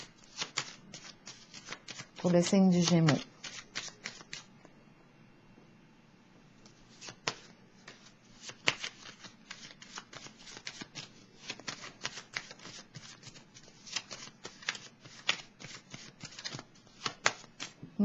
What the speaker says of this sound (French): je vais piger une carte pour déposer sur la carte de la lumière